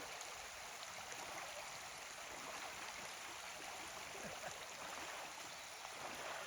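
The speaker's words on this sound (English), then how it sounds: "Coming across Lick Creek." Cold Lick Creek rushes steadily over rocks during an Appalachian Trail crossing, a continuous broadband wash of flowing water heard close and unbroken throughout.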